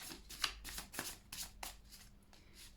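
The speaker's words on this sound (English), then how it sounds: "So I'm shuffling here the cards." A Dream Vision Tarot card deck is shuffled by hand, a series of quiet, crisp riffling bursts in an uneven rhythm, close by and with no talk over it.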